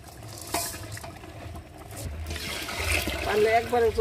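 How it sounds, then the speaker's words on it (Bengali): Plenty of water goes into a pot of rice and lentils, a rushing, splashing pour that swells midway and overlaps a voice speaking nearby. "বেশি পরিমাণে জল দিয়ে দেওয়া হলো একবারে চাল ডাল সেদ্ধ হয়ে একবারে হয়ে যাবে"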